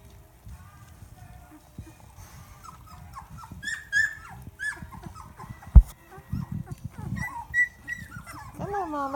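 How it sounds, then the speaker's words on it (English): Two-week-old Doberman puppies let out small high yips, whimpers and little growls in scattered bursts, close and fairly soft, with shuffling and bumps between them. "Little barking,"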